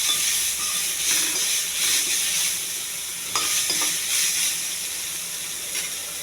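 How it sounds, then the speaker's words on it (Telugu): Sliced onions with green chilies and curry leaves frying in a pan for a mushroom curry, a loud hissing sizzle close by, with a few spatula scrapes and taps scattered through. "కొంచెం దోరగా వేగెత్తాలి."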